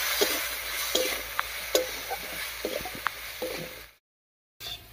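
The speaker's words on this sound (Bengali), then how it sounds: "এবার আলুটাকে একটু ভাজা ভাজা মতো করে নেব।" Potato pieces with salt and turmeric frying in hot oil in a pan, sizzling steadily while a spoon scrapes and stirs in repeated short strokes, cutting briefly to silence near the end.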